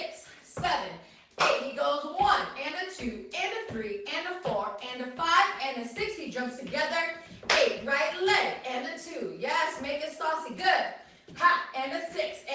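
A dance choreography session with sharp hand claps and taps landing in rhythm, interleaved with an instructor's steady spoken counting and cues in a quiet room.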